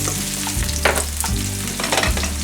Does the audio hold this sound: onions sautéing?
yes